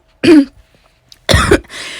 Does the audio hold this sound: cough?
yes